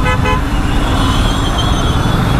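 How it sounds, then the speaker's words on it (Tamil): Congested road traffic piled up at a city signal, with car horns tooting loudly near the start over a steady, close engine and road rumble. "டிராஃபிக் இங்கேயே குமிஞ்சிருச்சு."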